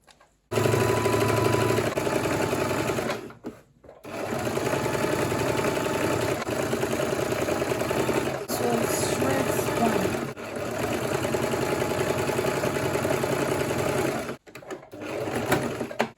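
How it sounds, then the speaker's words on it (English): Sewing machine stitching the side seam of a kaftan top, a steady mid-pitched motor whir running continuously for long stretches with brief pauses between runs; a voice is heard faintly. "So I will be sewing now from there."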